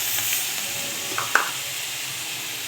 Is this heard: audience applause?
no